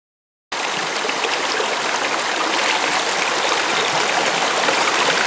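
River water rushes over rocks in a gold-prospecting spot, a loud, dense, unbroken flowing roar that begins abruptly after a brief silence and holds steady, with no speech.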